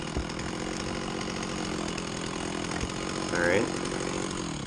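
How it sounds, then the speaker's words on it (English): A chainsaw idles low and steady in a wooded felling setting, a continuous rough engine drone close by, with a brief spoken phrase over it. "That saw idles really low."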